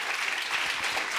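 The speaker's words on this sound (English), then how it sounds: "Give Andrea one more round of applause." An audience at a personal branding workshop gives a round of applause, a brief, continuous burst of many hands clapping at steady strength.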